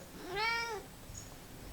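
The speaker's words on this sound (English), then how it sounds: "Why you cats do this to me?" A domestic cat lets out a single clear, rising-then-falling meow at close range, followed by a faint short chirp, indoors against quiet background hiss.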